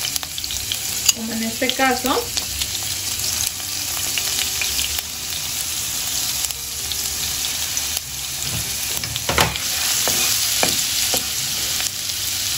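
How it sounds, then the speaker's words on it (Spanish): Minced or crushed garlic sizzles and fries in hot oil, a steady crackling hiss that runs throughout with occasional stirring clatter and a brief spoken voice in the background. "Voy a agregar ajo picado o machacado"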